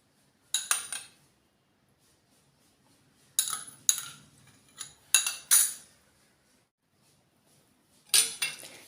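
A spoon clinks against a glass while basil seeds go into a butterfly pea flower drink, producing bright, close chimes in short clusters separated by near silence.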